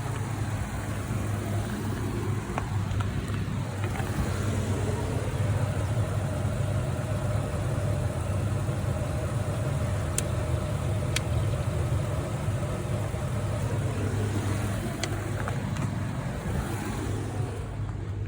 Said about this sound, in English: She's got compression and she makes noise, so that's half the battle. Give her a little more gas.